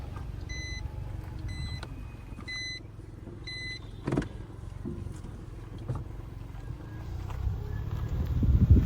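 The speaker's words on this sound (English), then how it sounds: "just drive down the street to see what's at the other end" A car rolls slowly along a village street in Nine Mile, Jamaica, its low engine hum steady beneath a short run of repeated electronic beeps early on, with a soft knock midway and the rumble swelling toward the end.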